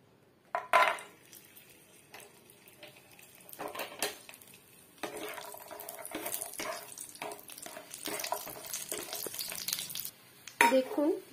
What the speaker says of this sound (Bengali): তাওয়াটা গরম হয়ে এসেছে, তো বড়িগুলোকে ভালো করে তেলে ভেজে নেব।